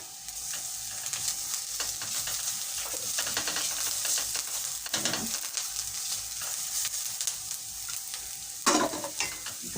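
Garlic sizzling in a pan with onion for an egg stew, a steady bright frying hiss throughout with occasional stirring scrapes and clicks.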